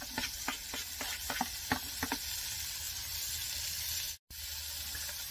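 Onions frying in a Dutch oven, a steady sizzle with a few sharp crackles and pops early on, fairly quiet, with a brief dropout near the end.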